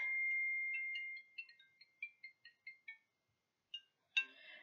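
A mobile phone rings with an incoming call. A sustained tone gives way to a quick run of short chiming notes, then a pause and a brighter closing chime, all fairly faint with no voices.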